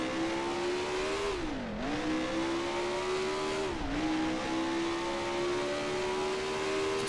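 A race car engine in the racing game Grand Prix Legends howls at a steady high pitch, dipping briefly twice as the throttle lifts before climbing back, loud and continuous with no talk.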